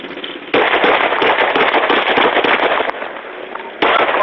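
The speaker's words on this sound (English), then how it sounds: "Shot fired." Gunshots ring out during a dashcam-recorded traffic stop involving a white Ford Taurus, a dense burst of loud, rapid, crackling pops that runs for several seconds, pauses briefly, then resumes.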